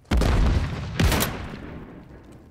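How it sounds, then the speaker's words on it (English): A stun grenade detonates in a hardcore tactical shooter game: a loud, sharp blast followed about a second later by a second burst, both decaying into a fading rumble with no talk. "Throwing a stun grenade."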